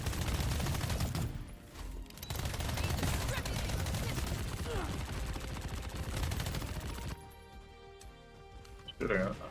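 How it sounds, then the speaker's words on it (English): Rapid bursts of gunfire in the video game Pax Autocratica form a dense, loud barrage through most of the stretch, giving way near the end to quieter in-game sounds with a voice talking over them. "Shooting it."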